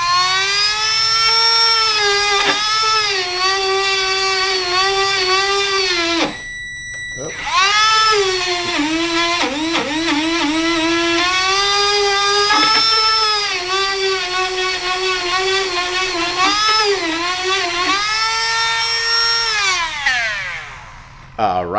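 A high-pitched rotary tool whines steadily while cleaning the threads and body of a stuck Rinnai water heater inlet filter, its pitch rising and dipping with load through a brief pause, loud and close.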